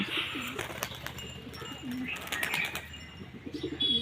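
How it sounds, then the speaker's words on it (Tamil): Pigeons cooing in a backyard pigeon coop, several soft repeated coos with light chirps and a brief wing flutter, steady and close with no voices. "சத்திரியில் பாருங்க ஃப்ரெண்ட்ஸ், 2 புறா உட்காந்துருக்கு."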